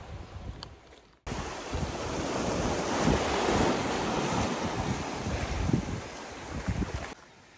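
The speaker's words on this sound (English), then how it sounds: "I just want to sit down and look at the ocean." Ocean surf washes steadily onto the beach at Wineglass Bay in Freycinet National Park, Tasmania, a broad continuous roar with gusty wind buffeting the microphone and no talking.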